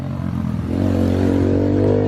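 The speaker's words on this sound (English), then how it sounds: "Got the pit bikes out." A pit bike engine revs up at a backyard shop compound with a tiki bar, rising from a clattering idle into a loud, sustained close whine that holds steady before cutting off.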